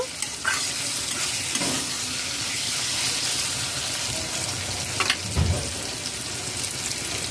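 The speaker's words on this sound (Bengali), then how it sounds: "ভালো করে নাড়াচাড়া করে মিশিয়ে নেব আঁচ হাই ফ্লেমে দিয়ে নাড়াচাড়া করে নেব" Pointed gourd and shrimp frying on high flame give a loud, constant sizzle, with a few scraping stirs of the pan marking the hiss, close and without talk.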